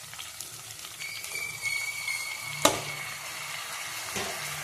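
Tomatoes sizzle and hiss in hot oil in a pan as they are stirred, a soft steady frying texture with occasional scrapes and one sharp clack against the pan midway.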